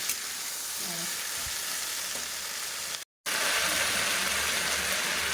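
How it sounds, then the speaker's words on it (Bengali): Vegetables frying in a pan with oil produce a loud, continuous sizzle, with light stirring and a momentary dropout partway through. "সবজিগুলো একটু ভেজে নিই"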